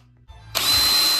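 A power drill bores a hole for a new vent during a house renovation, starting after a few faint handling knocks and then whining loudly and steadily at close range.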